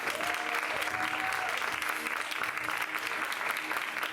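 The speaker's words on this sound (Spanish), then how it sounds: "recibamos con un enorme y grandísimo aplauso, ovación" A crowd applauds steadily for a guest speaker, former gymnast Almudena Cid, at a public talk in Santa Úrsula; dense clapping fills the whole stretch at an even, loud level.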